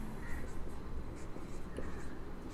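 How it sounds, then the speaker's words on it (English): Pen or marker writing out notes during a chemistry lecture on the oxygen family, a faint continuous scratching close by under a steady room hiss, with a voice briefly audible. "So I will write one point."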